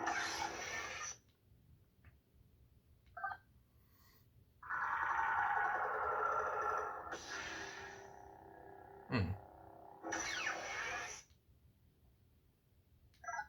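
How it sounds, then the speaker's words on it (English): Several bursts of a humming, crackling lightsaber ignition effect from Xenopixel sound boards, separated by quiet gaps, with one sustained buzzing blade in the middle. "when you hear that kind of Saber ignition"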